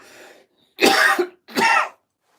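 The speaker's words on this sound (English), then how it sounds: "I hope you like the improvised cough," A person gives two loud, close coughs a moment apart after a brief faint throat sound, with silence in between.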